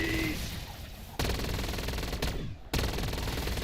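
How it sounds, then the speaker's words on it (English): Sustained automatic gunfire in the Black Ops 7 Zombies video game on the Ashes of the Damned map, loud rapid bursts broken by brief pauses, with game background noise. "We gotta shoot these."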